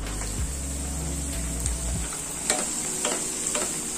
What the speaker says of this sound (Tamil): எண்ணெய் வரி ஊற்றினீங்கன்னா நல்லா உங்களுக்கு பொறிஞ்சு வந்துடுங்க